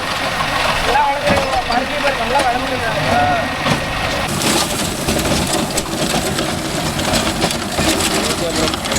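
A Mahindra Arjun Novo 605 DI tractor drives a rotavator through a cotton field, a continuous rough engine rumble and churning blade noise with voices talking over much of it.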